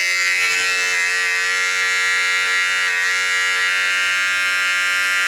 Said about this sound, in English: we're gonna grab our clipper and we're just gonna get all these little flyaway hairs at the top